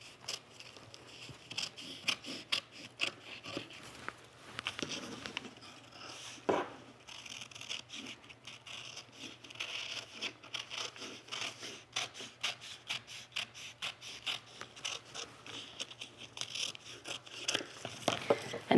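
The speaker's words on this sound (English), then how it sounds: "I'm going to cut on the dotted lines because that's where the seam allowance actually needs to be" Scissors cutting vintage linen fabric along marked seam lines, a close series of crisp snipping and rasping cuts with soft rustles of cloth between them, irregular and moderately loud, no voices.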